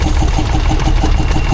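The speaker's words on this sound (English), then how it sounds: "It's an oil engine anyway, by Peta. And it's running a generator." A Petter oil engine drives a generator at a steam rally in Welland, Worcestershire, producing a steady, loud, close mechanical chugging hum that holds an even rhythm throughout.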